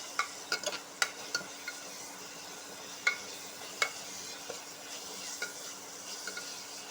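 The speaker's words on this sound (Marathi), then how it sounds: "आता ते मसाले आपण छान परतवून घेऊया" Turmeric, garam masala and red chilli powder fry in oil with spinach, onion and tomato for dal palak. A soft steady sizzle runs under scattered light scrapes and clicks of a spoon stirring the pan nearby.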